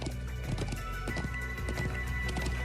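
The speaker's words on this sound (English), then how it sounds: "I'm glad I still remember how to ride a horse." Horse hooves galloping in the video game Trails of Cold Steel II, a steady rapid clip-clop rhythm at even loudness throughout, alone without talk.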